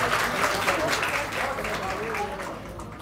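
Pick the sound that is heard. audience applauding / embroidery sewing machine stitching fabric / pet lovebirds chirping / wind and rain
audience applauding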